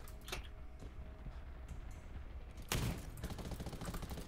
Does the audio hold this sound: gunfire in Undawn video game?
yes